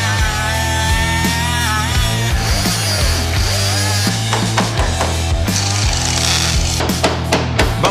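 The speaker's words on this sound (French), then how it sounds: "en tapotant partout sur le métal" Rapid metallic tapping and knocking across a car body's sheet metal during rust repair and welding prep in a garage, irregular sharp hits sounding over steady background music.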